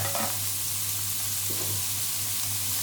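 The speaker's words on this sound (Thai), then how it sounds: "แล้วเราก็ผัดน้ำพริกเผาค่ะ" Boiled surf clams stir-fried with Thai roasted chili paste in a wok give a steady, close sizzle with faint scraping of stirring, continuous and fairly loud throughout, no voices.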